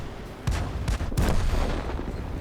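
Tank destroyer cannon fire in World of Tanks, aimed at an M3 Grant in a Tier 5 tank destroyer match: a few heavy, booming shots land close together over a constant rumbling battle noise.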